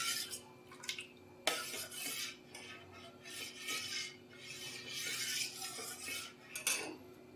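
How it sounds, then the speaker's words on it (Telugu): Coconut milk being stirred in a pot over a low flame, with repeated soft scraping and clinking of a utensil against the metal in irregular strokes, alongside a steady low hum; no one talks. "కొబ్బరి పాలు గిన్నెలో వేసుకొని ఇలా లో ఫ్లేమ్లో పెట్టుకొని ఇలా తిప్పుతూ ఉండాలండి"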